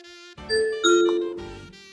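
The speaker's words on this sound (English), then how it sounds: "my doorbell rang and it's not even for me" A loud electronic doorbell chime rings out, a few bright sustained tones stepping in pitch over about a second and a half, then fading.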